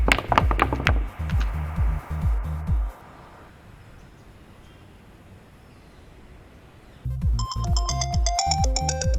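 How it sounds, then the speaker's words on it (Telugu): A mobile phone ringtone plays loud and close in repeated melodic bursts, stops for several seconds of near silence, then rings again with a brighter tone, no talking. "రే నీ ఫోన్ వస్తుంది చూడరా."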